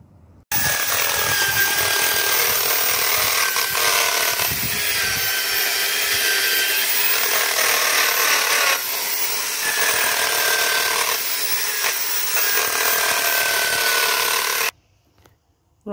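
Power wire brush scrubbing rust off the rear drum brakes of a Rover 45, a loud continuous harsh buzzing grind held for about fourteen seconds with slight dips in pitch, then cutting off abruptly.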